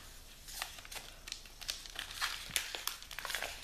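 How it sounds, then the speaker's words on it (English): Paper envelopes and mail packaging being ripped open in the morning, a quick series of dry tearing and crinkling bursts, close and fairly soft, with no talking. "The sound of ripping paper in the morning."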